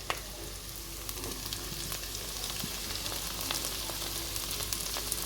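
Cabbage, vegetables and tomatoes frying in a pan while being stirred for pasta, a continuous close sizzle with scattered clicks and scrapes of the spoon, no voices.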